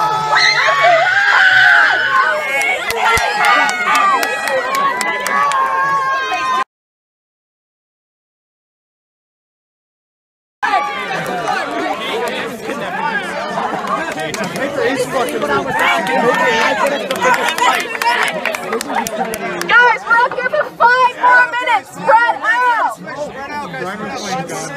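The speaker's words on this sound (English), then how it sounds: "Let's get some noise for Jake." A crowd of high school students screams and cheers loudly, with shrieks, chatter and overlapping voices, broken by a few seconds of silence partway through before the noise resumes.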